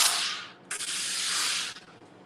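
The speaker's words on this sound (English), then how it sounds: "I can use the steam from LauraStar." A LauraStar steam iron releases bursts of steam onto fabric: a loud, close hiss that fades, then surges again in a longer sustained blast before tapering off, with no voices.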